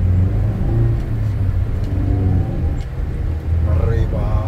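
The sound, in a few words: Toyota Avanza 2006 car accelerating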